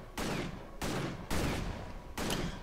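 Four loud, sharp aimed gunshot bursts in the game Victor Vran, each followed by a short ringing decay, spaced unevenly with brief gaps of silence between them.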